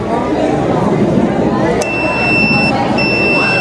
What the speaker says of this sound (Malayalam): അത് ലീക്ക് ആയാൽ നമുക്ക് അലാറം തരും